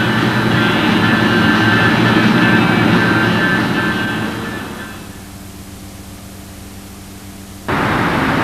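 Windy Jett 50 model jet engine on its first run, a loud steady broadband roar with a high whine that winds down partway through, holds a lower hum, then surges back up at the end.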